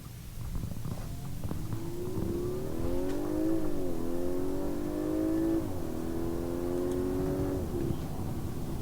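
A 2021 Audi A5 Sportback accelerating on the road, engine rising in pitch through successive gears with short dips at each shift, steady and close from inside the car.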